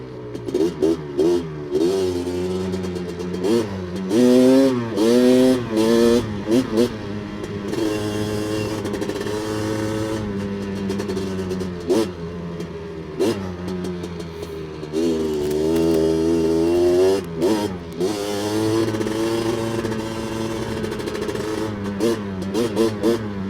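A Honda 250R engine revs hard at full throttle, its loud, close, buzzing note climbing and falling through a long series of repeated pulls with brief dips between them, and no talk over it.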